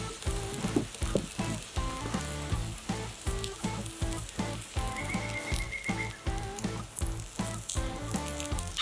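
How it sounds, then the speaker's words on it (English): Two buns toast on a hot griddle beside a Philly cheesesteak cook, giving a loud, continuous close sizzle with popping crackle and occasional scraping, with no voices. "So we're just gonna quickly toast up 2 buns."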